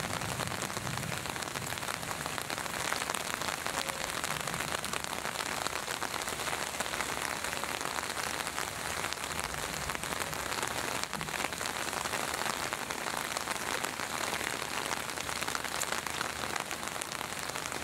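Morning rain pours steadily onto a rooftop garden where water has pooled, making a dense, even hiss of drops that holds unbroken throughout with no voices.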